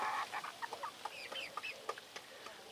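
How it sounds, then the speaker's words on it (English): Two 8-week-old crested Polish hens give soft, chirpy clucks and short peeps in a quick, uneven run, close by, with no talking. "Two 8-week-old Polish hens with their big bobbleheads."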